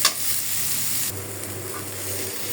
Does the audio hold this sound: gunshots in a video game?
no